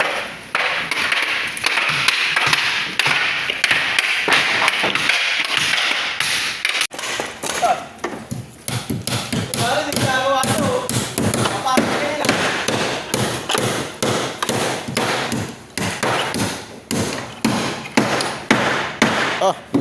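Repeated hammer blows on broken wooden pallets being repaired in a warehouse, a dense run of sharp, loud strikes that quickens in the second half, with people talking in the background.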